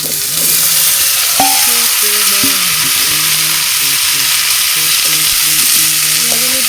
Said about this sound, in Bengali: ভাজা করে নেব একটু